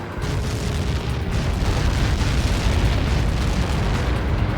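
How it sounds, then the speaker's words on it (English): A massive explosion in the combat flight game Ace Combat 7, struck by Helios projectiles, fills the whole stretch as a loud, sustained, roaring rumble of blast and debris with no break. "How many got caught in that explosion?"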